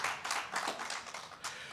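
An audience at a corporate run launch event claps for medical staff, a short burst of fairly close, uneven hand claps lasting under two seconds.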